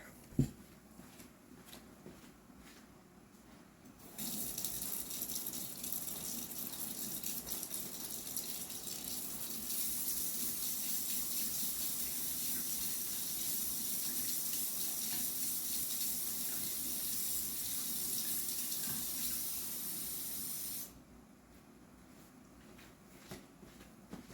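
A tap runs water steadily for several seconds, the stream shifting once in force, with quiet handling noises before and after.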